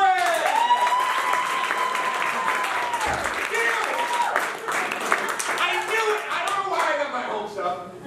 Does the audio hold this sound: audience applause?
yes